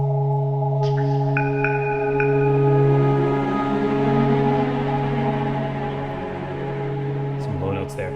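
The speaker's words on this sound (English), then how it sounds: "we're about to enter phase 2 of the Rising Island chain theme" Orchestral theme music from the Rising Island chain in Zelda: Tears of the Kingdom, with sustained low woodwind and string notes under a few higher melodic phrases, steady and moderately loud, ending with a short sound effect.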